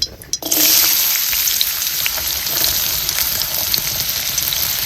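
Onion fries in a pan over a wood-fired chulha, a loud, close, unbroken sizzle that starts after a brief clatter and runs steadily with small crackles.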